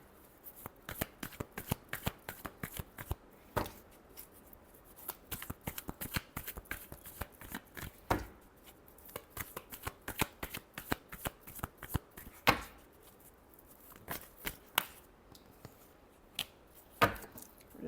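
Tarot cards are shuffled by hand in quick, crisp riffles and taps, close and clear, with short pauses between bursts and no talk.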